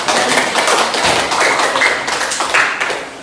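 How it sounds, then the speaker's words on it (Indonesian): A classroom of students claps for a presenting group, a dense, steady patter of many hands close by with no pauses, rising slightly in places before tapering at the end. "Tepuk tangan untuk kelompok 4."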